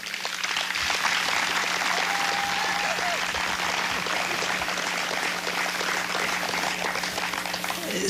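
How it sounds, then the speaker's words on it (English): Crowd at an outdoor memorial unveiling for a Kalamazoo cycling tragedy applauding firefighters and EMTs, a thick continuous roar of clapping held steady and loud for several seconds over a faint low hum. "I would appreciate another round of applause for them."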